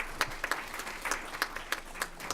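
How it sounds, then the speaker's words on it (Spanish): Scattered applause from a lecture audience at a legal research institute event, individual claps standing out distinctly, modest in volume and fairly thin rather than a full roar. "un aplauso de todos nosotros"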